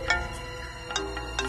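A mobile phone rings for an incoming call, with short bright melodic tones repeating every half second or so over a low background.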